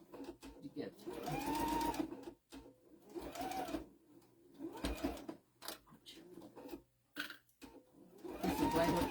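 Sewing machine fitted with a size 90 needle stitching through a thick, layered cotton tea towel, running in several bursts of rapid mechanical chatter with brief pauses between, close up, while a person talks over it.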